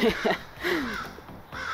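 Several agitated crows caw loudly and repeatedly outdoors, harsh overlapping calls that come in quick bursts close by, with no talking.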